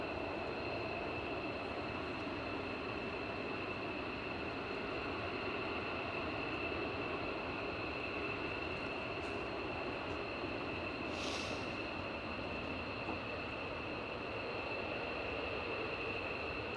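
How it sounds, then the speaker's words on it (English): A USAF F-15 fighter jet carrying drop tanks takes off, a continuous, broad roar that stays loud and steady throughout, with no voices over it. "Another F15 coming out with drop tanks."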